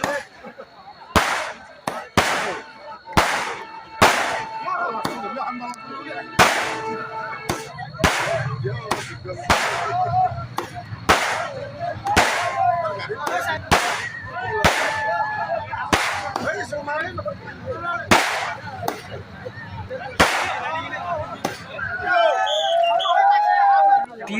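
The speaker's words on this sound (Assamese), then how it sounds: "এনেদৰে আকাশ মাৰ্গলৈ ফটকা নিক্ষেপ কৰিছে বিসৰ্জন কাৰ্যসূচী।" Firecrackers are launched into the sky, bursting one after another in a rapid series of sharp loud bangs during a Durga Puja idol immersion procession, with a crowd murmuring and shouting in the background.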